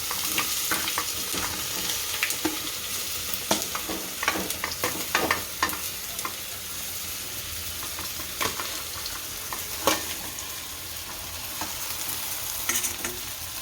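Methi muthiya, Gujarati fenugreek dumplings, frying in a pan while being stirred, with steady close sizzling and repeated scraping strokes of a spoon across the pan, no talking.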